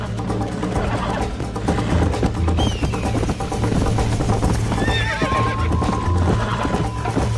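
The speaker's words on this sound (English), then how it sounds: "Ah, meu cavalo parou. O cavalo não quer ir." A horse in the Red Dead Redemption video game halts with clip-clopping hooves and lets out a loud whinny, backed by steady game music and ambience with no talk.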